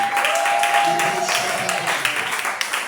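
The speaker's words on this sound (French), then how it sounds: "Acclame fortement Jésus. Acclame puissamment Jésus." A church congregation at a Sunday worship service applauds and cheers in acclamation, a dense, steady wash of clapping that fills the whole stretch, with a sustained tone running underneath for the first part.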